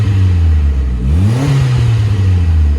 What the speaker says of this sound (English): is going to give it a little rev up for us